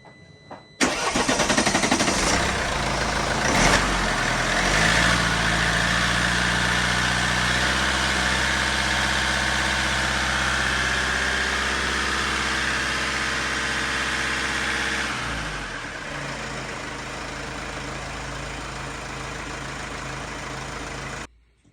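A Mercedes C220 CDI diesel engine cranks and catches after a filter service, then runs loud and steady with a raised rev of 2,000–3,000 RPM for a while before settling to a lower idle.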